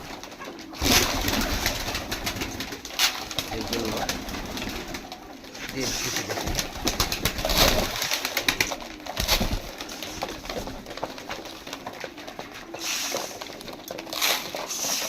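Newly acquired pigeons cooing continuously nearby with fluttering and shuffling noises, while a person speaks a few words over them.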